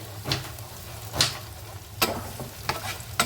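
Garlic, ginger and onion sizzle in a hot pan, with a spoon scraping and stirring in several sharp strokes over a low, steady frying hiss.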